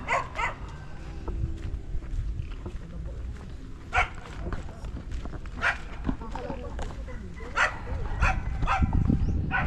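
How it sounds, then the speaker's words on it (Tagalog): Several dogs bark in short scattered bursts at a low-tide shore, mixed with steady outdoor background noise. "Ang daming aso, guys."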